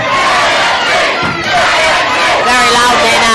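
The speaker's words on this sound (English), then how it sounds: "The crowd really making some noise for JMP." A loud boxing crowd at a professional bout roars and cheers continuously, a dense wall of shouting and babble that swells and stays steady throughout.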